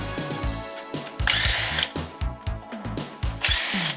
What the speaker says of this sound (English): no problem taking them out with an impact gun